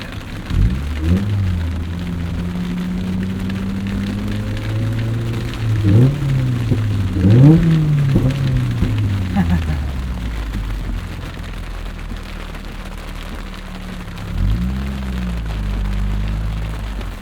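Rain falls on a modified 2003 Mazda MX-5 Miata with its original soft top while driving, a steady patter over the engine's droning hum that rises and falls through gear changes.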